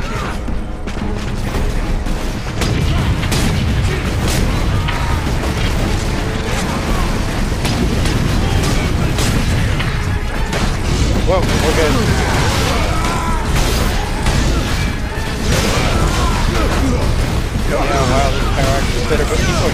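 Dense bursts of gunfire and booming explosions from the Space Marine video game on hard difficulty, a continuous chaotic barrage of shots and blasts with voices talking over the combat.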